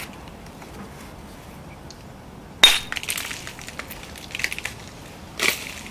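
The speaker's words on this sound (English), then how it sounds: "That one just shattered." A sharp crack of a knapped stone flake shattering, followed by small clinking fragments and scraping, then a second brief impact near the end; close and otherwise quiet.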